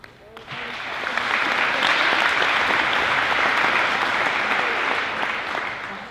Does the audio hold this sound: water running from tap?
no